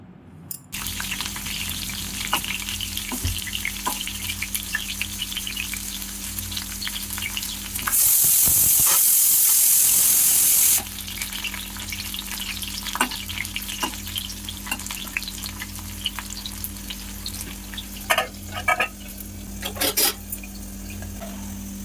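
Cauliflower frying in a pan on a village-style kitchen stove, steady soft sizzling with scattered clinks of stirring and a brief louder hiss burst partway through; no talking.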